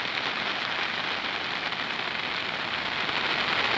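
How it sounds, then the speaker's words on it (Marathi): Heavy monsoon rain pours steadily beside a flooded river, a dense, continuous hiss of downpour at even loudness throughout, with no voices. "पाऊस मुसळधार चालूच आहे मित्रांनो"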